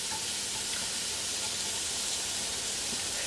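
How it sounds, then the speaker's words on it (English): Vegetables sautéing in a pot for beet soup give off a steady, even sizzle and hiss that carries on without a break, fairly close and with no voices. "I'm just going to saute this until all the vegetables have become softened and"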